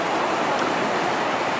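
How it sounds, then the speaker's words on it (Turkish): Loud, steady rushing roar of water at Niagara Falls, a dense continuous wash with no breaks. "burada güldür güldür akan bir su var"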